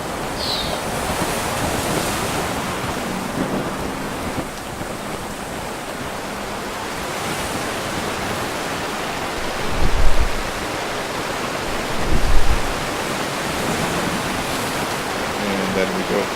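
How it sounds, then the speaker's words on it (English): Steady, broad rushing of ocean surf in a video game fills the scene, with a couple of deeper swells rolling in midway; no voices. "I've also added a number of water sounds, so let's get on close to the ocean over here"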